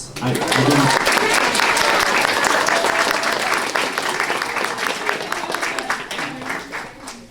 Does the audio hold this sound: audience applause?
yes